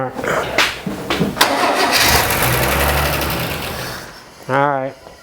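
An old 1977 Chevy six-cylinder engine cranks with uneven starter bursts, catches and roars into a loud rough idle, then a voice cuts in briefly near the end.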